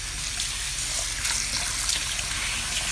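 Water from a sink tap splashes and trickles steadily as something for a 10-gallon fish tank is washed down, running close and continuous.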